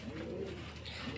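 A single male Lahori pigeon gives a short, soft, low cooing call, close by and alone against quiet background noise.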